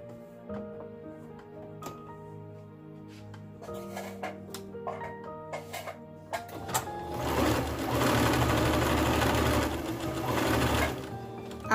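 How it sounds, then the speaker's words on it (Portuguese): A sewing machine works on baby clothes fabric up close, starting with slow separate stitches and clicks, then building to a steady, loud, fast run. "Agora eu vou costurar."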